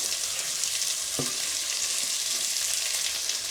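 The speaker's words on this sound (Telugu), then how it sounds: "ఇదిగోండి ఫ్రై అవుతుంది. ఓకే, ఉల్లిపాయలు వేసేస్తాను." Onions and green chillies fry in a pan for upma with a loud, continuous crackling sizzle. Near the middle comes a single soft knock of a utensil. No one speaks.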